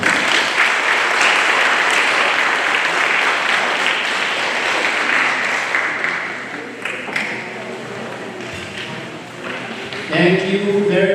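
A crowd applauds steadily at a student spelling bee competition, a loud, dense wash of clapping for most of the clip that thins near the end as a voice begins to speak over it.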